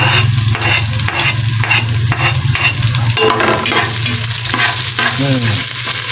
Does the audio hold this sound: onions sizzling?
yes